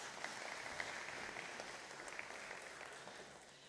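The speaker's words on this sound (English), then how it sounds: "Big cheer for Cooper." A church congregation claps and cheers during a Sunday service, a brief, fairly distant burst of applause that holds steady, then fades slightly.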